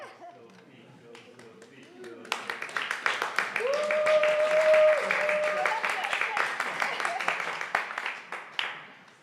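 An audience at a working group session breaks into applause after quiet murmuring, the clapping swelling loud and dense for several seconds before thinning out.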